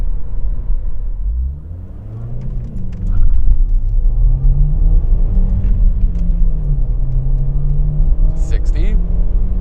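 A 2009 VW City Golf accelerates hard from a standstill toward 100 km/h, its engine note rising and falling through the gears, loud and close from inside the cabin, with a person talking over it.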